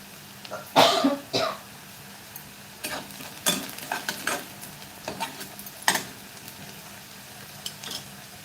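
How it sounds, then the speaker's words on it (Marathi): A pan of onion is sautéed, heard as scattered scraping and stirring knocks over a faint background sizzle. The strokes come in irregular bursts, fairly close. No voices. "इथे बघू शकता तुम्ही कांदा चांगला परतून झालेला आहे"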